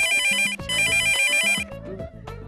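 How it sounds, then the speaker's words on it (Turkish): A telephone rings loudly in two repeated electronic bursts, then a brief pause with quieter background sounds. "Hay Allah, telefon."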